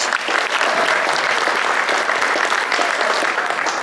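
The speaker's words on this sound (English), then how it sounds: "give her a round of applause" A banquet audience at a Chamber of Commerce event gives a round of applause, loud, dense clapping that holds steady for several seconds without talk.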